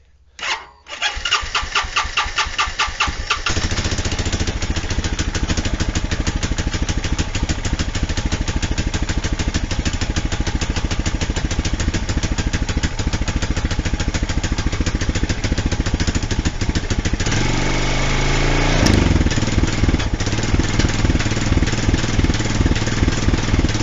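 A rusty 2013 Honda Rancher 420 ATV engine cranks briefly, catches and then idles steadily and loudly for about twenty seconds, with the idle note shifting slightly near the end.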